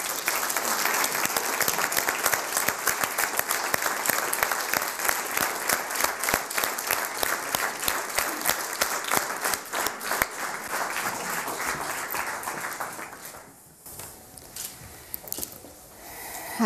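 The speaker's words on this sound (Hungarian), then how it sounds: "köszöntsük őt nagy tapssal, Béresnyi Koller Éva." Sustained audience applause greeting a guest performer at a Hungarian stage show, dense clapping filling the room at full volume for about thirteen seconds before thinning out and tapering near the end.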